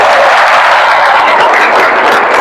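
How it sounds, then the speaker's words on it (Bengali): An audience at a seminar on stem cell nutrition therapy applauds in a dense, loud, continuous wash of clapping that holds steady throughout. "একটা হাততালি দিতে পারি তো নাকি?"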